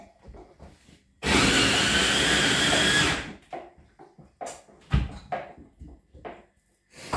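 Electric chopper whirring loudly for about two seconds as it chops an onion in a kitchen, surrounded by quieter clicks and handling knocks before and after.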